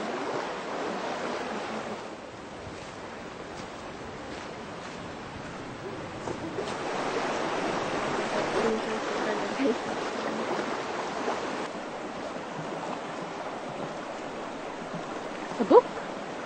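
Water flows steadily outdoors where people are wading, making a continuous broadband rush that swells and eases slightly, with faint splashes and a brief sharp knock near the end.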